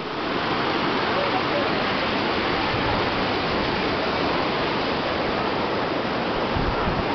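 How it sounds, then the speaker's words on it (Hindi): Fast-flowing river beside the Chamunda Devi temple, a dense, steady rushing roar of water filling the whole clip, loud and constant with no pauses. "तो आप देख रहे हैं साथ में ये नदी बह रही है, इस नदी का जो बहाव है बहुत तेज है।"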